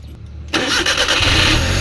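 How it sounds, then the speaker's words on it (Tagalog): A Suzuki DA52 with an F6A engine, misfiring and lacking power, cranks briefly and catches into a loud, steady idle close to the microphone, with no voices. "i-try lang muna nating pandarin ang makina at observe po tayo. Engine start."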